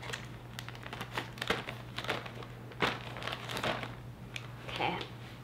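Crinkling plastic and sharp snips as packaging is cut open close by, in irregular bursts with a low steady hum behind.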